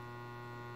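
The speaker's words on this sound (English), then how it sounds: "you can hear that noise, that nice yummy yummy hum" Steady low electrical hum from the transformer cores of a solid-state drain pump motor running at about 16 volts, faint and constant with no other sounds.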